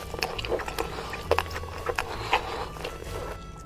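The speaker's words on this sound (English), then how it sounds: "Not in the chewing noises again." Wet, clicking chewing noises from a horror video game, coming in several short irregular bites over a low ambient rumble, fairly close and moderately loud, with no one talking.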